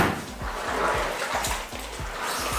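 Black laundry being rinsed by hand in a tub of water gives soft, rhythmic sloshing and squishing pushes, repeating steadily at close range.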